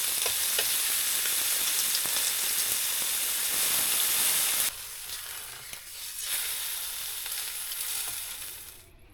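Eggs and bacon frying for breakfast on a snowy winter van camping trip: a steady close sizzle that drops abruptly midway, then continues more quietly and unevenly.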